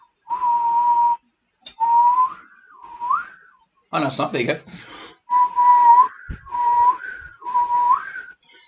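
A person whistles a series of sustained notes, several ending in upward slides, shaped by tongue movement, with a brief spoken remark partway through.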